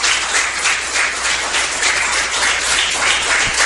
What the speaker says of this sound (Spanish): unas fuertes palmas